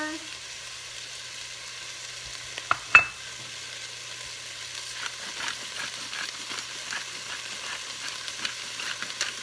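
Onions seasoned with salt and pepper sizzle steadily in butter in a pot for broccoli cheddar soup, with a couple of sharp utensil knocks early on and light stirring clicks over the continuous frying hiss.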